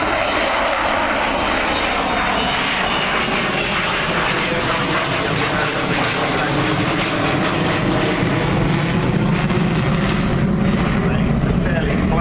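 Avro Vulcan XH558 bomber passing low overhead at the Farnborough airshow with wheels down, a loud continuous broadband jet roar that swells and holds throughout, with faint crowd voices beneath.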